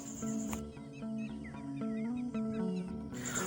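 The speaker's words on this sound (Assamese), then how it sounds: "লগতে চৰাইবোৰে মাতি আছে" Birds call repeatedly outdoors, with a clucking, fowl-like quality, in a steady back-and-forth pattern at moderate distance and no talking.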